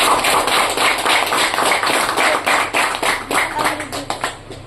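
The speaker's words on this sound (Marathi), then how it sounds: "एकदम जोरदार टाळ्या व्हायला पाहिजे" A live audience breaks into loud, sustained applause at a public talk, dense clapping filling the whole stretch and thinning slightly toward the end, with some voices mixed in.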